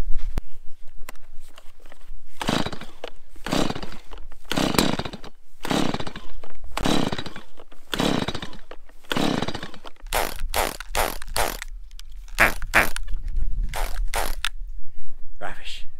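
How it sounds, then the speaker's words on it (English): A small chainsaw cuts firewood in repeated bursts, revving and bogging close and loud, with the rhythm quickening into short, rapid cuts toward the end. "Better to do it with a little chainsaw."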